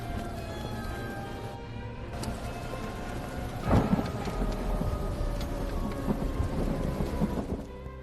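A thunderstorm closing in, steady rain pattering on surfaces with a sharp crack of thunder near the middle, followed by rolling rumbles under the continuous downpour.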